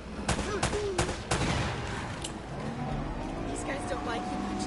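Bursts of gunfire from an Uncharted 4 game on PS4, several sharp shots in quick succession near the start, followed by a dense rumbling game soundscape with voices talking over it.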